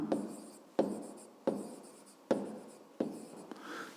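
Handwriting on paper during a fifth-grade maths exercise: five distinct scratchy pen strokes, each starting with a sharp tap and fading, spaced about three-quarters of a second apart, close and quiet with no talk.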